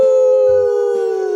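A person howls like a wolf in one long, loud, steady wail that holds a single pitch throughout, mimicking the cry of a wolf or the howling Pokémon Lycanroc.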